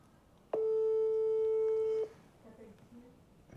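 A phone rings once with an incoming call, a single steady electronic tone about a second and a half long, followed by faint background noise and a brief voice at the end.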